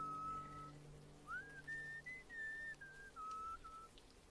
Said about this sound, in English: Why are you whistling?